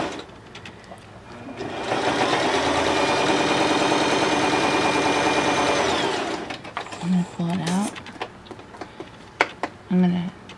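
Close by, a sewing machine stitches a quilt seam on a nine patch block, running in one steady whirring burst of about four seconds, then stopping as a person talks.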